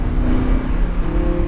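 A race car accelerates on the track at Hallett Motor Speedway, its engine giving a steady, close-up drone with a rising tone through a short burst, no voices present.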